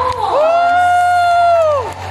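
A crowd cheers at a Filipiniana fashion show, with one long, loud sustained whoop rising over the noise and holding steady for over a second before falling away.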